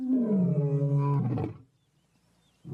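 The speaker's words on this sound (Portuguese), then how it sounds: "O rugido do leão é o mais alto de todos os grandes felinos" A lion roars loud and close with one long, deep, falling call that ends abruptly, then a short pause before another breath or roar begins.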